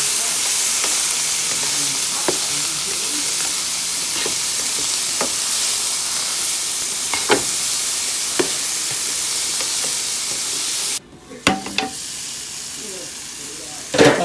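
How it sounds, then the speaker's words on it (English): Vegetables sautéing in a pan with poultry seasoning give off a close, steady sizzling hiss with occasional utensil taps, then the sizzle drops away, leaving a few clicks and scrapes. "Now let's saute this up and cook these veggies down."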